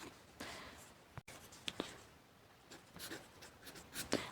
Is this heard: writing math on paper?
yes